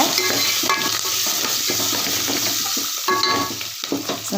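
About ten shallots fry in hot oil as a tempering for mango vegetable sambar, a dense, loud sizzle with busy stirring and scraping throughout, heard up close without speech.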